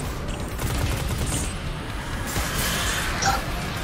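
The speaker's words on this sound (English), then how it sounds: "You just shot at me." Enemy gunfire in a video game, dense bursts of shots rattling steadily through the whole stretch amid a busy background, with a brief sharper crack near the end.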